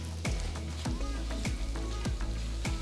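Kashmiri red chilli powder sizzles in a pan of masala for tawa pulao, a steady frying hiss broken by regular sharp spatula taps about every half second.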